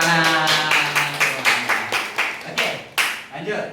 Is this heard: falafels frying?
no